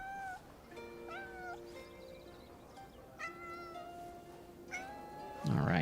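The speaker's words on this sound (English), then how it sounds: "Look at that tuxedo cat." A tuxedo cat meows several times in drawn-out, rising calls spread across a few seconds, fairly close, with a louder burst at the end.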